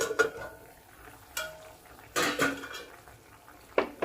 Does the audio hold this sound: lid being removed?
yes